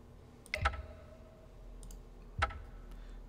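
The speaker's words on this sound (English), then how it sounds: "Furious typing sounds." Clicking on a computer keyboard, two short bursts of clacking about two seconds apart, heard close up against a quiet low hum with no talking.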